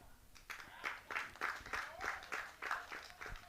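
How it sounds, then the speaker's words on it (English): Supporters at a Nigeria versus Rwanda T20 cricket match clapping in a steady rhythm, a sparse, modest group applauding at a distance with regular beats, with commentary talk alongside. "There claps all around from the supporters that are here"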